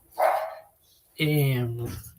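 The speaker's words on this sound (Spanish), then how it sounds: "Permítame un segundo que se me entraron las perritas." Small female dogs bark indoors: one sharp bark, then a longer whining, yelping call a moment later, fairly close and loud, with speech mixed in.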